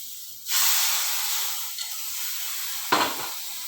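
Hot tadka tempering poured into a pot of sambar gives a loud, sudden sizzle that hisses steadily, then a second sharp burst of sizzling near the end as more is added.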